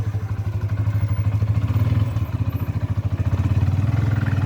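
An ATV engine revs hard while towing a heavy load of about a ton, a loud, close, throbbing motor with rhythmic pulsing and some clatter, running steadily without a break.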